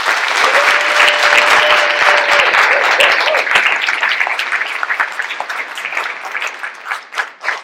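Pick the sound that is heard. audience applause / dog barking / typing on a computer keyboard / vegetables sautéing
audience applause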